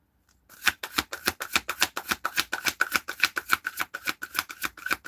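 Playing cards are riffled and shuffled in a quick, regular rhythm of sharp, close snapping bursts that continue steadily after a brief silent start.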